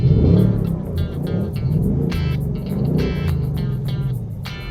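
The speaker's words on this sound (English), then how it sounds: "as you guys just heard, the car is really quiet with the stock intake" A 2024 Mustang GT with its stock intake runs nearby, a low steady engine hum under intermittent bursts of sharp higher-pitched noise and no talking.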